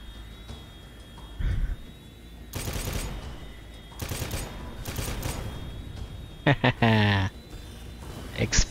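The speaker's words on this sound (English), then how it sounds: "Explosions." Bursts of gunfire and explosions erupt in a video game, several loud broadband blasts and rapid shot clusters separated by quieter gaps.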